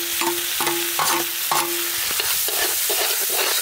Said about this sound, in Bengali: সাদা তেল, সাদা তেলের উপরে দিয়ে দেব বাটার। ঝুরি ঝুরি করে কেটে নেওয়া পেঁয়াজ